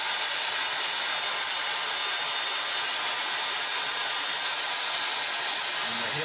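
A hair dryer blows steadily on a beard with hot air, a constant loud broadband whoosh filling the whole stretch with no talk.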